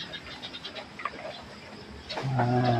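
Young goats on a farm bleat several times, with short calls at mid distance over a faint background, the loudest voice rising near the end.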